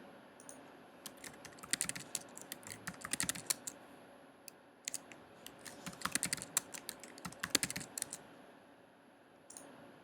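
Keys clatter on a computer keyboard as a password is entered, coming in short irregular bursts of crisp clicks separated by brief quiet pauses, fairly faint and with no voice over them.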